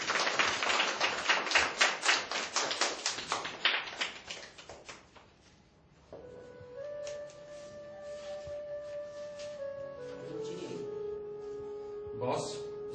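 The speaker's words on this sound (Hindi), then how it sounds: "तो इसके लिए जोरदार तालियां" Loud applause from a gathered audience, a dense burst of many hands clapping that fades away over several seconds before music takes over.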